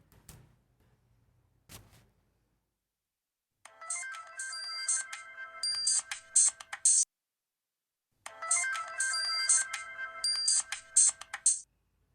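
A mobile phone ringtone plays in a Malayalam comedy serial, two bursts of a bright electronic melody separated by a short pause, loud and alone after a few faint knocks at the start.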